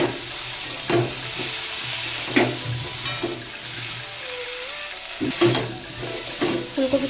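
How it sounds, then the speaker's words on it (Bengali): Cauliflower florets fry in hot oil in a pan, a steady close sizzle broken by a few sharp stirring scrapes and clanks, with no voices. "ফুলকপিটা ভেজে তুলে রাখছি।"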